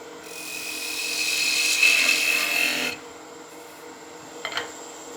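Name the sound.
long point skew cut on wood lathe turning a spinning top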